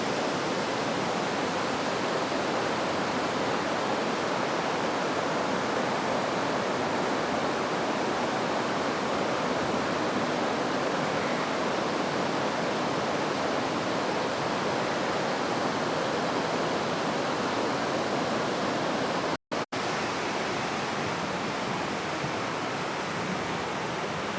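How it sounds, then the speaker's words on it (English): A small water cascade spilling from a reservoir in the town of Occoquan, Virginia, gives a steady, dense rushing roar that holds evenly throughout, with one brief dropout near the end. "the little water cascade from the reservoir"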